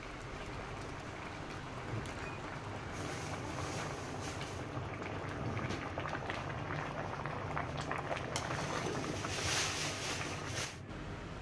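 Three-quarters-cooked rice for Kabiri biryani being drained, a steady watery rush and splashing that runs continuously at close range with no talk.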